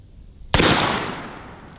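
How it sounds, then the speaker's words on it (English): A single loud, close revolver shot, an old cowboy-style gun fired at watermelons outdoors, a sharp crack that decays into a long rolling echo. "Let's see what this old Red Dead revolver can do to them."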